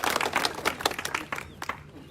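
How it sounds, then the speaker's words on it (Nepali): Brief applause for a speaker at a gathering in Nepal: a short burst of fairly close, uneven clapping that thins out toward the end. "उहाँको नाममा जोरदार ताली गर्नु"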